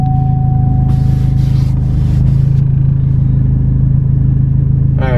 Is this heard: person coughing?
no